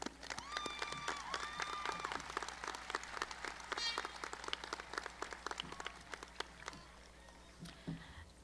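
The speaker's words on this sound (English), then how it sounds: "Please join me one more time in a round of applause." At a high school graduation ceremony, a crowd claps in a sustained, moderately distant round of applause, with a few whistles and cheers near the start before the clapping thins toward the end.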